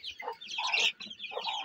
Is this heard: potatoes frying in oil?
no